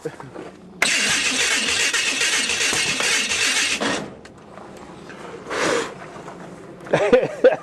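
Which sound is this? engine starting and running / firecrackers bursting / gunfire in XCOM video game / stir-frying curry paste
engine starting and running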